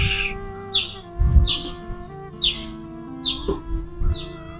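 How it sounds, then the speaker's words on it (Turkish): Bird calls inside an old oven building at the Seyit Battal Gazi complex in Seyitgazi, a pigeon keeping watch there: several short, bright chirps spaced through the clip, fairly close, over a steady low hum with no talking. "içeride bir güvercinimiz bekçilik yapıyor fırına"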